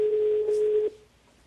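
On a telephone line, a steady, clear tone sounds for under a second before cutting off, followed by faint line hiss.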